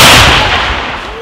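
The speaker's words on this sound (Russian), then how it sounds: "Люблю этот волнительный момент взрыва." A loud carbide explosion inside a Zaporozhets car opens, a broad burst of noise that decays over about a second with a lingering rumble.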